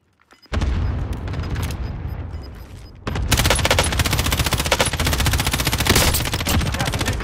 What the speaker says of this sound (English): Getting shot from the right.